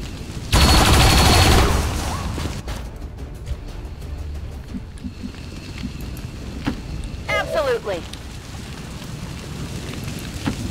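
Gunfire in XCOM 2, one loud burst of rapid shots at the start, then quieter rumbling and scattered effects with a voice speaking briefly.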